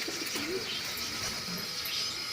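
Pigeons cooing softly, low throaty warbles repeating over a steady background hiss, fairly close.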